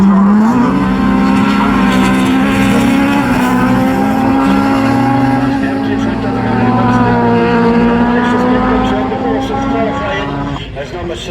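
Race car engines at the Men's Nationals Class 4 meeting give a steady, droning high-pitched whine that rises and falls slightly as they run laps, continuous and loud beneath a commentator's ongoing talk.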